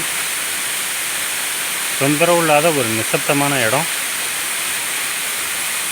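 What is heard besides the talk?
Dabarkhola waterfall in Hindol-Badamba reserve forest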